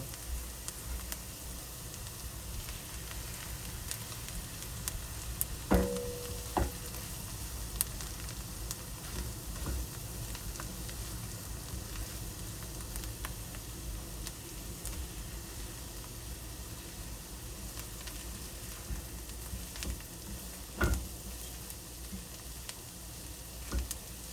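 Boiled potatoes are stirred into lightly browned fried onions in a pan, giving a soft, steady sizzle with occasional scraping and clinks of the spoon against the pan, fairly quiet throughout.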